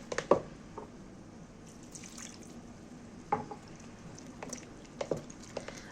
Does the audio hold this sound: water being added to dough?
yes